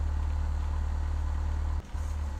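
Aircraft engine in Flight Simulator X spinning down after landing, a steady low drone that cuts off abruptly near the end, then briefly returns fainter.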